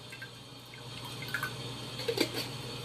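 Sauce poured into a crock pot for stuffed chicken meatballs, a faint, brief liquid trickle with a few soft drips and splashes near the end, against quiet room noise.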